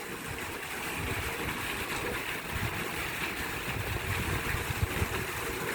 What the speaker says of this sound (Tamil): இந்த போரில் இருந்து கிணத்துல சப் ஓடிட்டுருக்கு.